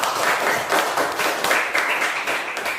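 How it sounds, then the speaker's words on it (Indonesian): A classroom of students clapping together, brisk close-up applause with uneven bursts of hand claps over a short stretch, lively but brief. "Minta tepuk tangan dulu."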